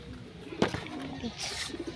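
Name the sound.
pigeons cooing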